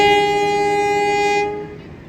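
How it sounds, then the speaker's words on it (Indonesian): A passenger train's horn blares loudly in one long sustained tone as it departs Ngawi station in Indonesia, then cuts off as the train noise fades away. "Kereta Singasari berangkat dari stasiun"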